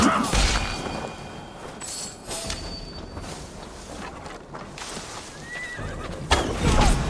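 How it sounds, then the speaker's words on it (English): Horse neighing and hoof clip-clop from the game Assassin's Creed Valhalla, with a whinny early and another near the end over a steady game ambience. "Now to deliver Magni his horse"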